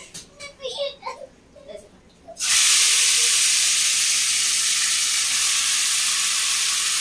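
Chicken cooking in a pan at home, first a voice chatting over a quiet kitchen, then a sudden loud, steady sizzle and hiss of frying that continues evenly to the end.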